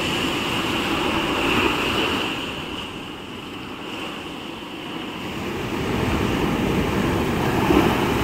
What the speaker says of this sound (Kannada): ಆ ಬಂಡೆಗಳಿಗೆ ಅಲೆಗಳು ಬಂದು ಅಪ್ಪಳಿಸುವಾಗ ಒಂಥರ ಏನೋ ಒಂಥರ ಅನಿಸ್ತದೆ.